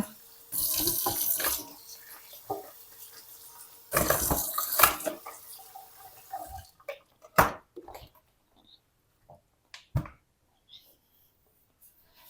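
Water running and splashing as washed bean sprouts drain, two longer gushes early then scattered drips and small splashes fading to quiet, close by in a kitchen sink.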